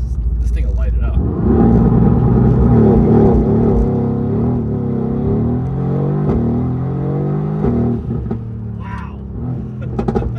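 A Mercedes AMG GTR accelerates hard from inside the cabin, its engine swelling into a loud, deep roar with rising pitch through the gears, while a man exclaims over it.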